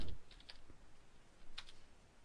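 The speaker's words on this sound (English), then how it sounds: "we can type a little statement" A few scattered keystrokes on a computer keyboard, typed while composing a short email message, with sparse light clicks and long pauses between them.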